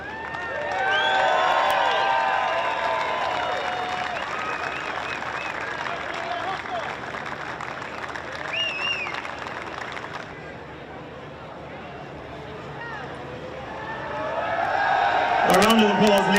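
A stadium crowd at the 2019 Oceania Rugby Under-20s Championship trophy presentation on the Gold Coast claps and cheers, swelling near the start and again at the end, with a loudspeaker voice and whistles mixed in.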